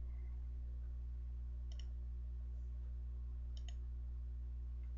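Mouse clicks on cards during an online Legacy card game with a Mono-Black Zombies deck, heard as two brief, faint double clicks spaced a couple of seconds apart over a steady low hum.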